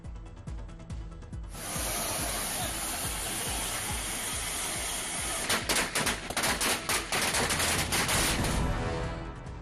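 Dense, sustained celebratory fireworks from about two seconds on, crackling bursts and rapid popping explosions, loud and continuous, with sharper bangs later, at a village celebration in India.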